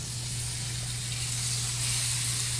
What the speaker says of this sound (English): I wanna hear a little bit of a sizzle. I wanna hear that, so it's gonna give it a nice crust.